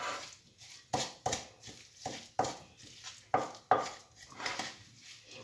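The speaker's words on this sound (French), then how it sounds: "Je mélange bien." A spoon mixes salmon burger mixture with breadcrumbs and pepper in a bowl, giving a steady series of sharp clinks and scrapes about every half second, close and fairly clear.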